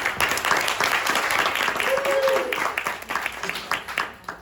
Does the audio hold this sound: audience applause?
yes